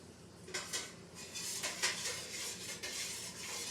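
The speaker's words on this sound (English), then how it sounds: "We're going to put our sugar in it." A spoon scrapes and clinks against a pot as sugar is stirred into boiling peach jelly, giving a few irregular metallic knocks and swishes at close range without any talk.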